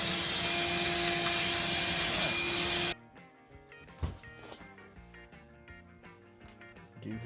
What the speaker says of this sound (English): I have a love-hate with this vacuum because you gotta empty it out so damn much.